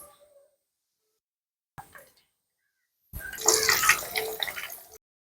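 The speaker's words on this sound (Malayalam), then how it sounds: "പാൻ വെച്ചിട്ടുണ്ട് ഓയിൽ ഒഴിച്ചു കൊടുക്കാം" Cooking oil is poured into a pan for frying vegetable spring rolls: after near silence and a brief clatter, a steady liquid glugging and splashing runs for about two seconds, close and fairly loud, then stops.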